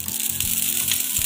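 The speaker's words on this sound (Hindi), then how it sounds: "अब हमने ये तवा गर्म कर दिया है, अब इसे हम स्लो कर देंगे। अब इसमें डालेंगे हम घी।" Ghee sizzles steadily on a hot tawa while a paratha is being made, a continuous close hiss with faint low crackles throughout.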